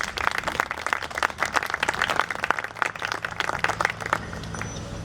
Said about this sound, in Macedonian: Еден аплауз за Ана.